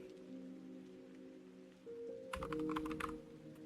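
Quick typing on a computer keyboard during game development work, a short cluster of close, light clicking keystrokes that starts partway through over a faint steady hum, with no talking.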